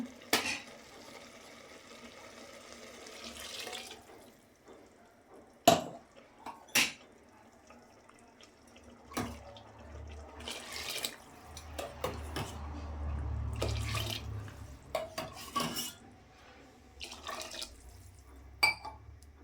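Water pours into a cooking pan of soya chunk rice for boiling in a steady stream, with scattered clinks and drips before and after.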